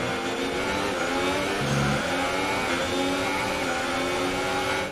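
Formula 1 cars racing in the game F1 2018, with a Sauber among them, engines screaming at high revs in a steady dense whine that shifts pitch through gear changes, loud and continuous.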